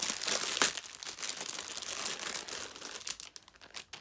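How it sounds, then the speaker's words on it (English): Close, continuous crinkling and rustling of a clear, crinkly plastic bag being handled, with irregular sharper crackles, fairly quiet and without talk. "a nice clear yet crinkly bag"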